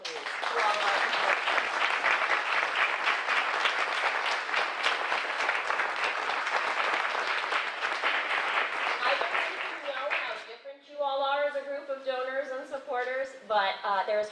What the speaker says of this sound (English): So can the staff members and company members of Northern Stage give a huge round of applause, please?